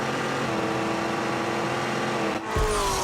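A race car in The Grand Tour Game roars under steady loud engine drone, then a sharp surge near the end as it launches from the start line with revving acceleration.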